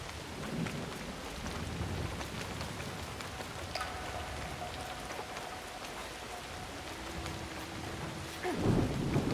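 Steady heavy rain falls in the video game Assassin's Creed Shadows as thunder rumbles underneath, a dense continuous hiss with a low roll building near the end.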